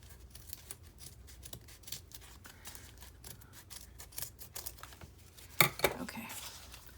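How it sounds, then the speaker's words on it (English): Scissors snip paper for a junk journal in a string of quick, close cuts, followed by a louder rustle of paper being handled near the end. "let's cut this off. These aren't the best scissors."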